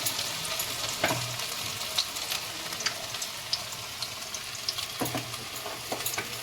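Food fries in a pan with a continuous close sizzle, broken by scattered crackles and pops and occasional stirring scrapes, with no voices.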